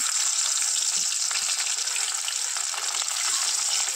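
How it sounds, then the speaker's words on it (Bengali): Small live snakehead fish sizzling in very hot oil in a wok, a loud, dense and continuous frying hiss heard up close and alone. "প্রথমে মাছগুলা ভাজা করতে শুরু করব"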